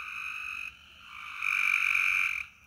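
A dense chorus of rain frogs croaking steadily on a summer night, swelling louder partway through and then dropping off, with no voices present.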